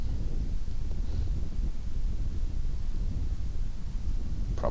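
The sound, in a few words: wind blowing across the disc golf course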